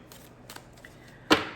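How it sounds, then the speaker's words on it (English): A deck of cards split in two and riffled together gives soft, sparse ticks, ending in one sharp, louder burst of flutter near the close. "I split these in two, and then I can like shuffle a little bit"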